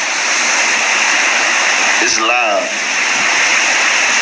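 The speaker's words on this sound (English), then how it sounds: "What you hear right now is heavy rains." Heavy rain pours down during Hurricane Irma in North Miami as a loud, unbroken roar of water with no gaps, while someone briefly speaks over it partway through.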